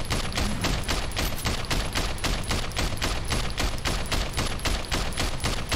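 Rapid, steady automatic gunfire from the video game Sleeping Dogs, a dense unbroken stream of shots lasting several seconds with no talking.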